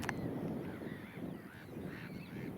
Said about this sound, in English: Plenty of nesting birds here